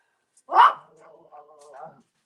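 A dog gives one loud bark up close, then trails off into a drawn-out whimpering whine that rises and falls for over a second.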